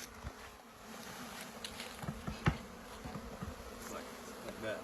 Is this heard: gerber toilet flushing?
no